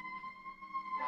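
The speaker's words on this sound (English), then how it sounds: "that was a very loud siren" A loud siren wails outside, a sustained steady tone that holds and then shifts pitch toward the end, heard alone without talk.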